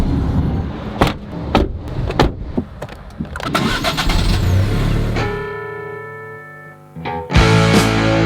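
A car is started for a road trip to Tuscany. Clicks and thumps come first, then the starter cranks and the engine catches. It settles into a steady close idle before revving again at the end.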